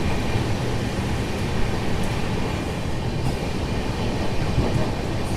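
Aboard the 12763 Padmavati SF Express as it runs through Tiruchanur station without stopping, a steady, close rumble of wheels and carriage noise continues evenly throughout.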